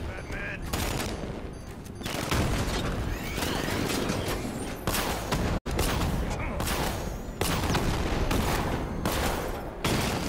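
Enemy gunfire pounds the Batmobile in Batman Arkham Knight in dense machine-gun fusillades and repeated bursts, with mechanical clanks mixed in and loud, continuous game sound throughout.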